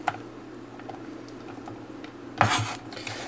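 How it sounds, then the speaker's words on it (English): A knife dicing an onion on a cutting board in a home kitchen, quiet scattered taps and rubs followed by a louder burst of quick chopping near the end. "Quick, easy way to dice an onion."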